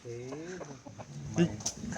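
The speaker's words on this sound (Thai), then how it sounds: "นี่แหละครับไก่ชน" A Thai fighting rooster gives a few short, close clucks and throaty calls outdoors, with a faint voice in the background.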